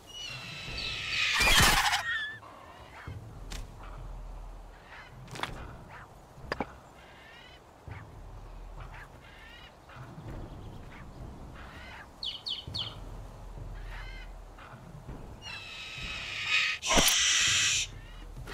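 Bird calls in the video game Fountain of Youth: a few sharp, loud chirping bursts at the start and near the end, with fainter scattered calls between, over quiet game ambience.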